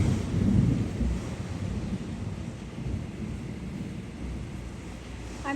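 Heavy rain and strong wind during a hurricane, recorded from inside a house, a dense, continuous roar with low gusting rumbles, loudest in the first second and then holding steady, with no talking.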